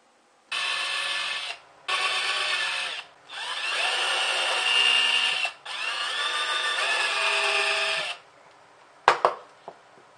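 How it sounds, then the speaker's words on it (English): An electric drill bores small holes into a small block of wood with a 1/16 inch bit, in four bursts of a few seconds each, a steady high whine with short pauses between, followed by a few sharp clicks. "So first, just drill the little holes in a small block of wood."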